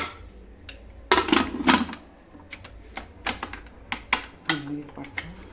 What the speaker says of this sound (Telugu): ఇప్పుడు పొయ్యి మీద పెట్టేసుకుందాం కుక్కర్ మూత పెట్టుకుని